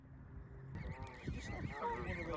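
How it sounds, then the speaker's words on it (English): Geese honk repeatedly in a standoff with a cow while guarding their goslings, a run of fairly faint, irregular calls that grows busier partway through, heard outdoors with no speech. "the geese are having a standoff with this cow to protect their young."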